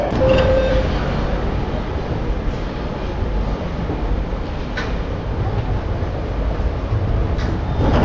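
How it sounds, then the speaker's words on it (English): A passenger train rumbles steadily nearby at a station on the Mangaluru to Subrahmanya Road line, with a broad, continuous roar and brief tonal squeals cutting through the clatter. "I'm not sure about the timings of this train which is on the right side."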